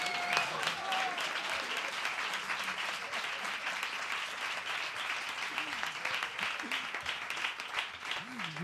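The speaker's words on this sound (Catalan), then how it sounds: "Un fort aplaudiment." Loud, sustained audience applause at a concert backstage event, dense clapping that holds steady throughout, with a few voices and faint tonal sounds underneath.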